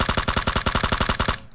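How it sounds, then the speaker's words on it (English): Rapid automatic gunfire in the PUBG video game, a steady burst of about a dozen evenly spaced loud shots that stops abruptly near the end. "One thing I do is I just start unloading shots."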